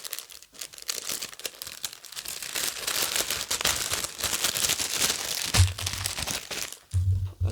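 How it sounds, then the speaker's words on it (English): Plastic packaging crinkles and crackles up close in a continuous run of sharp rustling, with brief low thumps near the end. "Sorry for the crinkling."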